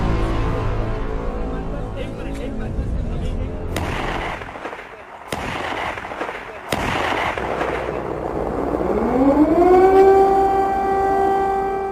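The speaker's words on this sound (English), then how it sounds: "Air raid sirens go off in Ukraine's capital Kiev" A loud air raid siren wails in Kyiv, Ukraine, over a noisy background, its rising tone climbing and holding steady near the end, with sharp bangs earlier on.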